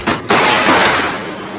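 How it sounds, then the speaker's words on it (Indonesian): Film-scene gunfire: two loud, close bursts of shots crack out in quick succession, then a sustained roaring echo. "Tak lama kemudian terdengar suara beberapa tembakan."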